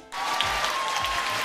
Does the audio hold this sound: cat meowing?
no